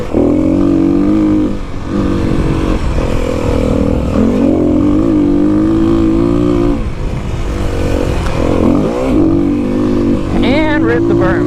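A 2021 Kawasaki KLX300 dirt bike engine drones and revs loudly while riding off-road over berms and jumps, steady throttle with rising and falling pitch, up close, with a rider talking over it.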